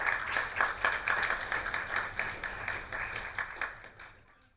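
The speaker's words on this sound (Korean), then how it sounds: "김창수 사무처장님을 큰 박수로 환영해 주시기 바랍니다" Audience at a peace and unification policy lecture clapping to welcome the speaker, steady moderate applause that fades toward the end.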